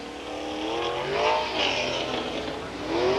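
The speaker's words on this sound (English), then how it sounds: "we will now put a few laps down with the race cars over the area that's been dry" Race cars run laps around the Sauble Speedway track, engines rising and falling as they pass at a distance, a moderate continuous roar of several cars circulating without voices.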